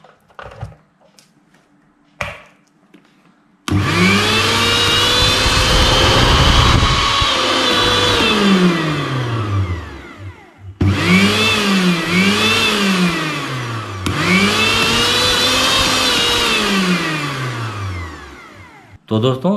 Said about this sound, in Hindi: दोस्तों देखा आपने ये मिक्सर ग्राइंडर कितना फ्री होकर चलना लगा